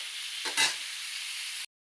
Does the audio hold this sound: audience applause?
no